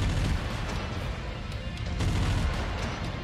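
Burst-fire AC10 autocannons pounding away in the Mechwarrior 5 game, a dense, continuous barrage of heavy booming shots that stays loud throughout with no pauses.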